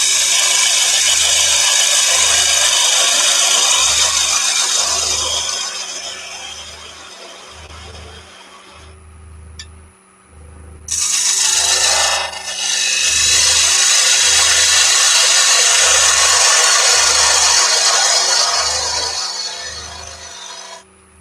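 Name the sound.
woodturning parting tool squaring the ends of a wooden box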